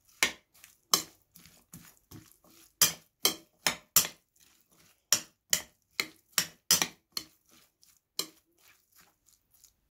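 Sharp scraping and tapping strokes from stirring paprika and spices in a pan, a steady series of about twenty crisp close clacks with short gaps, no talking.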